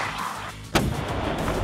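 A single weapon shot at a territorial defence training range cracks out as one sharp, loud blast after a stretch of steady outdoor background noise.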